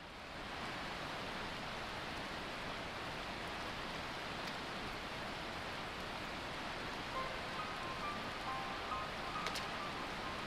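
Heavy pouring rain in Final Fantasy XIV, a dense, steady hiss of downpour that holds evenly throughout with no break, and faint tones surfacing near the end.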